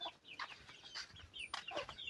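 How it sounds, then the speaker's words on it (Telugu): Two roosters cluck from inside a coop, giving short, bright calls in quick irregular bursts that sound close by, with no voices over them. "ఈ గాబుల్లో 2 కోడిపుంజు ఫ్రెండ్స్"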